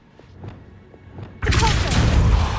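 An Accio summoning spell cast in the video game Hogwarts Legacy: faint ticks give way to a sudden loud whooshing magical surge that rumbles and sustains to the end.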